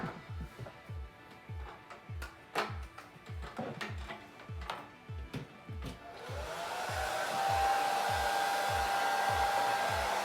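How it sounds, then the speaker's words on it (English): A series of sharp ticking clicks gives way to a steady hair dryer blowing on its cold setting, with a constant whooshing hiss and a faint tonal whine. "the first step says to turn the hair dryer onto cold air"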